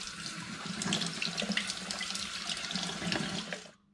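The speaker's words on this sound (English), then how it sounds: "Now I'm just going to give my bottles a wash to wash any sticky beer residue off them" Tap water runs and splashes steadily as beer bottles are rinsed of sticky residue in a sink, a close, continuous rush that cuts off at the end.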